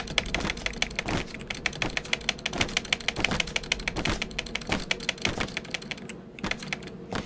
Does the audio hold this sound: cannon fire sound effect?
no